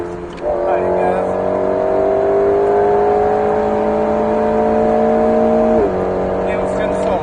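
An Alpine A110S accelerates hard on the Alès race circuit, its engine note climbing steadily through the revs, then dipping at an upshift before rising again. The sound is close and loud.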